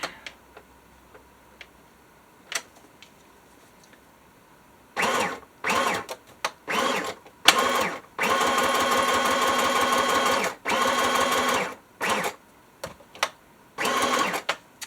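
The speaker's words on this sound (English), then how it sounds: "I will move the sewing machine out of the way" A sewing machine whirs in repeated bursts, some brief and one long steady run, with quiet clicks and pauses between stitches.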